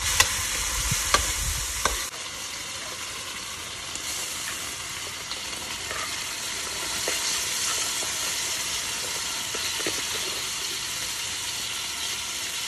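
Bottle gourd and corned beef stir-fry in a hot pan with a steady, close sizzle, and a few utensil scrapes come early on.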